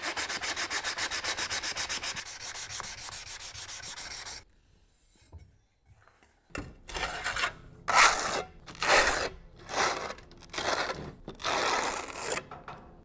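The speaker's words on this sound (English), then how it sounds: "By polishing the corner of your cut tile with a hand polishing pad, you can smooth out any of the inconsistencies on the edge of the cut." A hand polishing pad rubbed along the cut edge of a glazed tile: a steady rasping stretch, a brief quiet pause, then a series of about seven separate back-and-forth scraping strokes, close and fairly loud.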